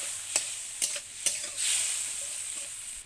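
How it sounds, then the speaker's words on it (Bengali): A spoon scrapes and stirs a turmeric, cumin and chili spice paste with water in a sizzling pan, with three sharp scrapes followed by a steady hiss of frying. "মশলাটাকে ভালো করে মিশিয়ে নেব।"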